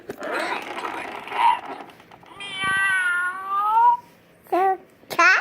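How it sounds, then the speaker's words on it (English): A cat meows several times close by, drawn-out and wavering, including a long rising-falling cry and two shorter mews at the end, with soft talk earlier. "It goes meow."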